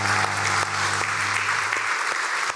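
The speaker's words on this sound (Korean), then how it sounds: "우리 한번 박수 한번 하도록 하겠습니다" A church congregation at a Sunday service breaks into warm, steady applause for an elderly couple after their hymn, the clapping dense and continuous as a lingering organ-like tone fades beneath it.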